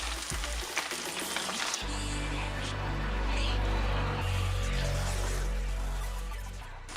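Chicken frying in refined oil gives a loud, continuous sizzle and crackle, steady and close, with low thumps at the start as pieces drop in.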